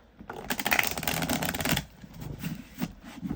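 Message cards being shuffled make a close, rapid papery riffle, followed by softer, scattered card rustles.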